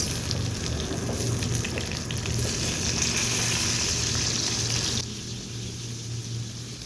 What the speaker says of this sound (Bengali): এখন আবার মাছ ভাজতেছে।